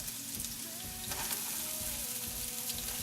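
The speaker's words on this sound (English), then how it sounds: "Now the oil here is kind of heated up, which is good. I'm going to take my onion slices," Onion slices sizzle steadily in hot oil in a pan, a close and even hiss with faint crackles running the whole time, and no talking.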